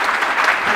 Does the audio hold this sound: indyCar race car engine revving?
no